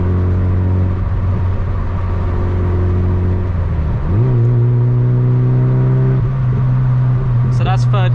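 A Mazda MX-5 MK2 in third gear burbles loudly up close. Its steady engine drone drops and then climbs in pitch as the throttle is tapped, and a faint chirp shows near the end.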